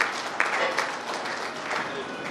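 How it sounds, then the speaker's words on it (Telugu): A seated crowd at a mega multi-specialty medical camp claps steadily for the project chairman, a dense wash of applause that runs through with a few sharper claps standing out. "ఆయనకు ఒక్కసారి చప్పట్లతోని"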